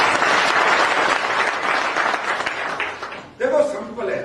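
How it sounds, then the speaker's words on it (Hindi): An audience at a business plan presentation applauds loudly and steadily, dense clapping filling the room before fading at the end as a voice comes in. "एक बार जोरदार ताली दें।"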